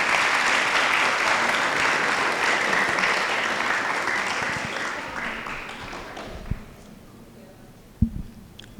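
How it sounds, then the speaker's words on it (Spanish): A crowd claps warmly at an art talk in Medellín, loud dense applause that gradually thins and fades, leaving a few scattered final claps near the end. "Vamos a recibirlas con un fuerte aplauso."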